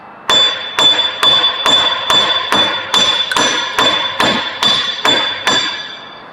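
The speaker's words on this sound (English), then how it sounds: "I'm just taking my hammer and I fucking hit the back of this section." A hammer strikes a rusted wheel bearing on a Jeep Commander, eleven loud, sharp metallic blows in a steady rhythm about half a second apart, each ringing briefly.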